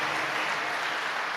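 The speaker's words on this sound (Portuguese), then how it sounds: "E aplauda bem forte, mas bem forte, palavra de Deus." A church congregation claps steadily and vigorously during a sermon, a dense, even wash of applause with no breaks.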